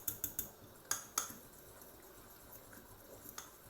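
A utensil stirs chorba soup mixture in a pot, making quick clinks and scrapes against the metal, a cluster of light taps followed by softer, wet stirring, close and quiet.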